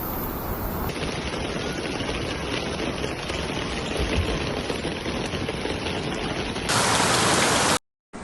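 Heavy rain pours down in Spain, a dense, loud, continuous downpour hissing over streets and surfaces, unbroken for several seconds before a brief cutoff near the end.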